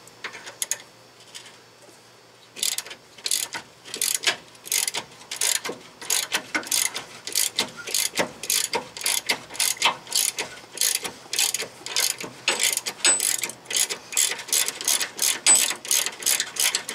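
A ratchet wrench clicks steadily as it backs out the last bolt on a 1997 Ford Crown Victoria Police Interceptor steering gear box, fast bursts of sharp pawl ticks in repeated strokes with short pauses between, close and loud, no talking.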